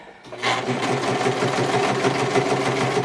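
A loud serger sewing machine runs steadily, its rapid mechanical stitching hum continuous and close after a brief quiet start.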